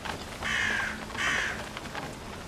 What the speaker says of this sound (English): Oh, that's a notification bird.